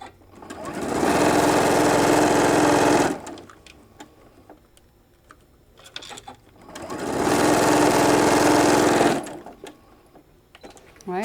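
A sewing machine stitches the seams of a pleated shoulder bag in two steady runs of about two seconds each, separated by a quiet pause with faint handling noise.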